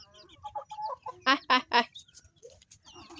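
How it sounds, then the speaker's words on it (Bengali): Backyard chickens cluck on a sunny day, a run of short soft clucks followed by three loud, sharp squawks in quick succession and more scattered clucking, close to the recorder with no talk. "আর এই যেগুলো হচ্ছে আমার মুরগি"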